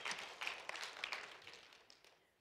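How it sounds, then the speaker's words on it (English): A church congregation gives a brief, faint round of applause, scattered hand claps that start fairly lively and then thin out and die away within a couple of seconds. "So let's give them a round of applause."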